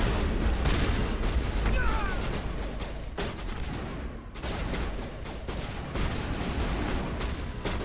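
Rapid bursts of weapon fire and combat effects from the sci-fi shooter Mass Effect 1 Legendary Edition, dense and continuous with a few sharper shots, with a person talking over the action.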